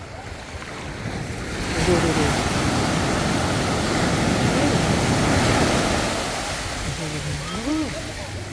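Strong sea waves crash continuously onto a beach with clear water. A broad roaring surf swells in the middle and eases off, with brief speech near the start and faint voices toward the end.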